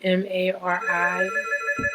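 Phone ringtone rings in short repeated tonal bursts, fairly clear, with a brief thump near the end.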